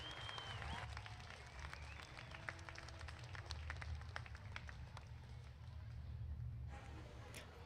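Applause for exhibitors at a market goat show, a faint, steady patter of clapping from a crowd in an arena, continuing for several seconds before tapering off.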